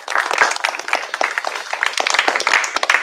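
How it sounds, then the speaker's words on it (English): Workshop audience applauding after introductions at an academic talk, a steady burst of many hands clapping together, fairly close and loud, lasting the full stretch with no voices over it. "So let's give them a round of applause."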